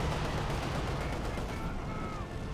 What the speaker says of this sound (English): Now they're stuck in the barrage here.